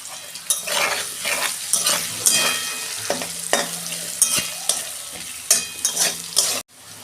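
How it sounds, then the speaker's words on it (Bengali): Loud, busy sizzling of potatoes frying in a pan, broken by repeated scraping and clattering of a spatula, with no talking. "হালকা আলুটা ভাজা হয়ে গেছে"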